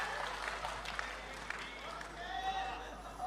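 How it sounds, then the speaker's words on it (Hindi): Scattered audience clapping at a Hindi poetry event, fairly faint and uneven, mixed with crowd murmur and cheers in the hall. "तालियां बजनी चाहिए"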